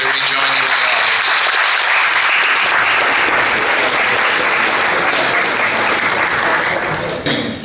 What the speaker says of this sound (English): how about another round of applause as they rejoin you in the audience?